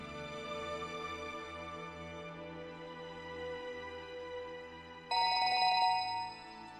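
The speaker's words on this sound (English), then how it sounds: "Unexpectedly, Maria's cell phone rang in Stanley's pocket." In the video game 428: Shibuya Scramble, a cell phone rings from inside a pocket, a repeating tonal melody that sounds muffled at first, then jumps louder and brighter for a second before fading.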